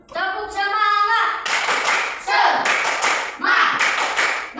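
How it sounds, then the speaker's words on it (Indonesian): A group of children and teachers in a fifth-grade Christian religion class claps out a rhythmic spirit clap, loud, close bursts of hand claps in a patterned beat after a sung or chanted voice at the start. "Tepuk semangat."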